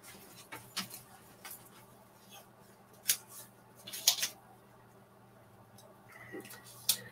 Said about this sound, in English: A little pair of cheap scissors here.